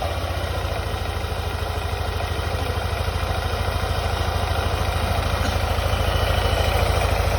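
Motorcycle with a CVT transmission idling and revving steadily after belt work, a loud continuous engine drone with pulsing low throb that rises slightly toward the end, no talk.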